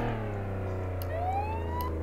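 A police car siren wails in the Flashing Lights video game, a loud rising and falling tone held over a steady engine drone, with no talking.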